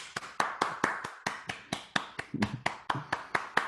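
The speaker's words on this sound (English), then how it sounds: "let's give him a warm welcome and a round of a big applause in the house today" Sparse applause welcomes a candidate at a virtual forum: distinct individual claps in a fairly regular rhythm, sounding like only one or a few pairs of hands, close and fairly quiet, with no voices.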